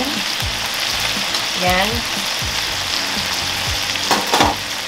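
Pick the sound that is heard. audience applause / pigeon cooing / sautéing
sautéing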